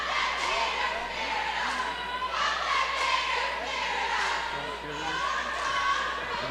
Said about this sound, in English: You can tell the crowd's getting more into this one as it goes on